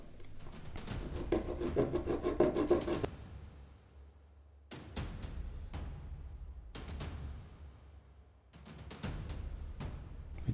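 A small saw cuts through a plastic model kit part, producing a steady rasping scrape with several brief pauses between bursts of strokes, close and fairly quiet with no speech.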